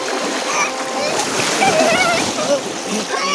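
Water splashes continuously as people swim in a river, with voices and shouts mixed in throughout.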